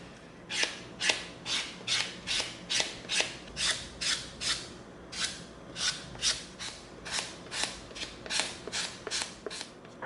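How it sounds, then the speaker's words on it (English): Steady back-and-forth rasping of a 220-grit sanding stick on a prop pistol, about twenty even strokes in a regular rhythm, close and fairly quiet, with no talking. "Now we're going to come in with our 220 sanding stick."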